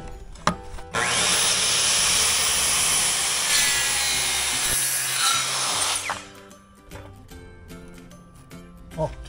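A power tool cuts through board along the outer edge of an RC car course being built, a loud steady whine running about five seconds before winding down, followed by clattering handling noises and brief voices.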